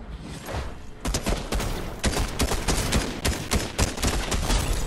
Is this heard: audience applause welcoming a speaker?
no